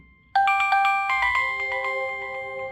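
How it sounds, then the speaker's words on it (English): A doorbell plays a bright, melodic chime tune resembling a phone ringtone: a rapid run of clear ringing tones that starts suddenly after a short quiet, near and fairly loud, with no talk. "Now that sounds more like a phone ringtone."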